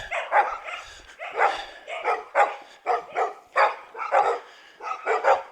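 Dogs bark repeatedly on a street in the town of Newry in Victoria's Gippsland region, loud and close, in a series of sharp yapping bursts with brief pauses between them.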